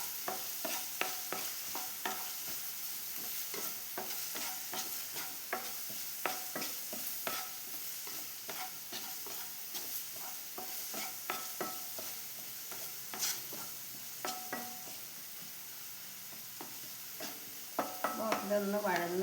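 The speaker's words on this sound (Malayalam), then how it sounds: "എല്ലാം കൂടി ഒന്ന് വഴറ്റിയെടുക്കാം." A potato and onion mixture being sautéed in a pan, with a steady low sizzle under frequent, fairly even scraping and stirring strokes of a spoon over about twenty seconds, heard close up with no voices.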